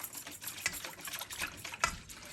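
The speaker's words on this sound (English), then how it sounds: "Now I will add in the ginger and green chili paste and mix it well." Besan chutney being stirred with ginger and green chili paste, a steady wet swishing and scraping of a spoon through the thin batter-like mixture, close and continuous.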